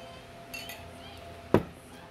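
A drinking glass gives a single sharp clink, close and fairly loud, against a quiet room with faint background rustle.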